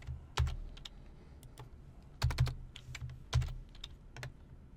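Keystrokes on a computer keyboard while code is written, a close, uneven patter of clicks with a few louder bursts of rapid taps, heard alone with no talking.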